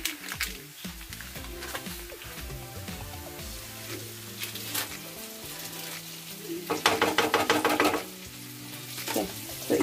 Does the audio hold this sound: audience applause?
no